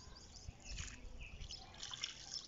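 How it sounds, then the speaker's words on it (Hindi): Water trickles and drips into soil in a plant pot as a giloy cutting is planted at home, a soft uneven pouring with faint splashes, close and quiet with no talking. "और हम अब इसमें पानी डालेंगे।"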